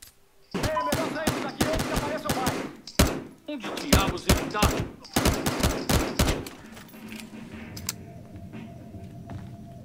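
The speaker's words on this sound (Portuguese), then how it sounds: "Eita, mano, eu tô tomando muito tiro" Rapid bursts of gunfire in the video game Battlefield Hardline: loud, close volleys of automatic shots in clustered rhythm, then fading into a low ambient rumble.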